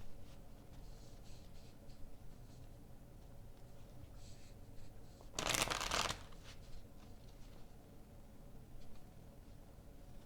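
A deck of tarot-style cards being shuffled: one brief, loud riffling burst in the middle, with soft card handling and rustling before and after in an otherwise quiet room.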